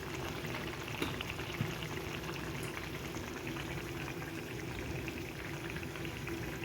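Oil heats in a pan on the stove with a steady, close bubbling hiss and faint crackle that stays even throughout, with no voices.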